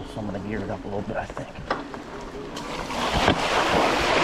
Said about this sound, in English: Getting into some larger puddles,